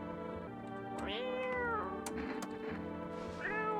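A cat in a video game meows several times, drawn-out and rising, over a steady hum of game background sound, with no voices.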